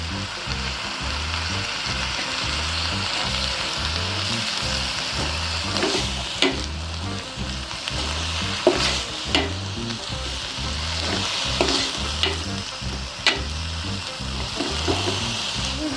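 Dried fish frying in a pan with a spatula stirring through it, a constant close sizzle with rhythmic scraping strokes and a few sharper clinks of the utensil against the pan.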